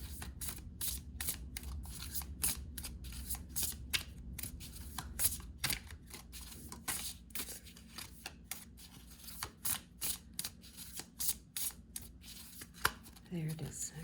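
A Wisdom of the Oracle card deck shuffled by hand for a pick-a-pile reading: rapid, close bursts of riffling card clicks repeating in a steady rhythm, with brief soft sounds near the end.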